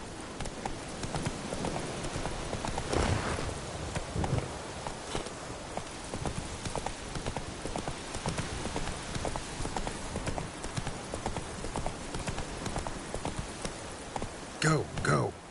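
Roach the horse from The Witcher 3 gallops in a steady clip-clop of hooves that runs throughout, with a voice speaking over the hoofbeats.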